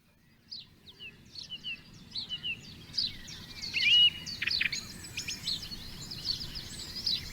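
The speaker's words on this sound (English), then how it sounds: "She was greeted by a bevy of birdsong" Several birds sing and chirp in a leafy copse, a scatter of bright, fairly faint calls overlapping over a soft, steady outdoor background.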